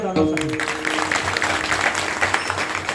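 Audience at a humorous Marathi kirtan breaking into steady, fairly loud clapping right after a sung note, a dense patter continuing throughout while a voice carries on over it.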